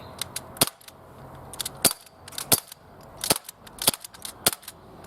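An Umarex H&K MP5K CO2 6mm airsoft gun fires a series of crisp, snapping shots in uneven bursts, close and clear over faint background noise.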